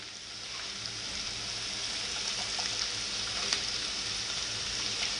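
Chopped onion frying in a pan, a steady even sizzle and hiss throughout with a faint clink or two, close and quiet, without talking.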